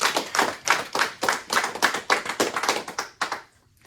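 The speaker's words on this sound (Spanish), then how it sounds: "Vamos a darle un aplauso a Cristo." A church congregation claps in unison during a Spanish-language sermon, steady rhythmic beats about four per second, loud and close, then stopping abruptly.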